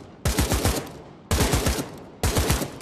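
Automatic gunfire in the VR shooter Pavlov Shack, three short loud bursts of rapid shots with brief gaps between them, close and without any talk.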